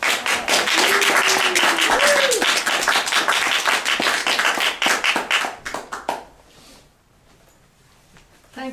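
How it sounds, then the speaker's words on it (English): A church congregation at an Easter service applauds a visiting reverend with dense, loud clapping that lasts about six seconds, then thins out into scattered claps and fades; a voice briefly calls out early in the applause. "So let's give a nice round of applause for Reverend Jean Pope."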